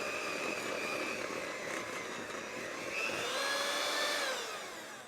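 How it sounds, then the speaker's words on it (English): An electric mixer whirs steadily through cake batter with flour and baking powder, a close, continuous motor hum with a slight rise near the end before it winds down, no voices. "we are going to turn this on and mix just until combined, and then we'll be done with our mixer"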